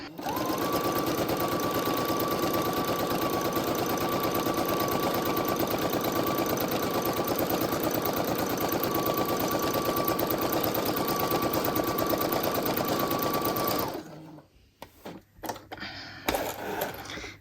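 Sewing machine running in free-motion embroidery mode during a machine embroidery workshop, a loud, steady rapid whir with a constant tone for about fourteen seconds, then stopping abruptly and leaving scattered clicks and handling noises.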